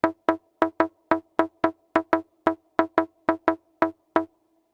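Percussion patch on a Behringer 2600 synthesizer, triggered from a USB keyboard: about fourteen sharp, close, drum-like hits in a steady, slightly uneven rhythm, each decaying quickly into silence, with no talking.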